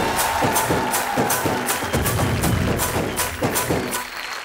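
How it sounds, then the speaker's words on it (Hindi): A studio audience on a Hindi TV quiz show claps and cheers in a dense, steady wash of applause, close and loud throughout with no talking. "मेरे लिए ताली बजाओ।"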